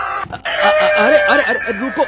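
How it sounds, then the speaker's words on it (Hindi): A flock of chickens clucking and squawking loudly and close as they scramble to run off, overlapping calls in a busy, excited chatter. "अचानक सैकड़ों मुर्गियां कमरे से भागने लगी"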